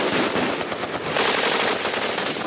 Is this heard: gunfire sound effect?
yes